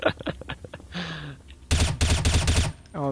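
A flashbang grenade goes off in Counter-Strike: Source amid rapid bursts of gunfire, dense and loud, with brief game sounds before and a ringing tone at the end.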